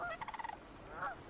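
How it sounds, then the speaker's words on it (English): Sandhill cranes arriving at a beaver pond give a rapid rattling, trilling call burst followed by a second rolling call, faint and distant with no speech. "Sandhill cranes arrive from Mexico"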